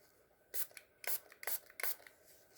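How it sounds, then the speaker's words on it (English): A close, quiet spray can gives several short hissing bursts, each under half a second, in an uneven sequence with brief pauses between them. "Now I'm gonna spray."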